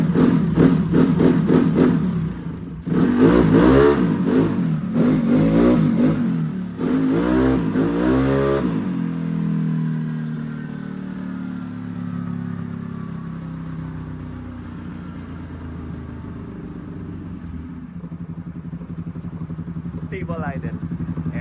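A motor engine runs steadily at idle after carburetor tuning, revving in short bursts early on before settling into an even, continuous hum with voices talking over it.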